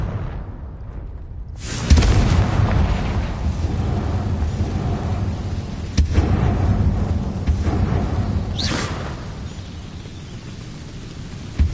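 Confringo spell explosions boom in a PS4 video game, with three heavy blasts landing at intervals over a continuous rumbling roar. No speech is heard.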